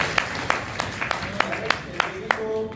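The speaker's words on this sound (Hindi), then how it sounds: "तालियों से रवि पढ़े।" An audience claps for Ravi at a poetry recital, with a few sparse, sharp claps falling in an even rhythmic beat and a voice entering briefly at the end.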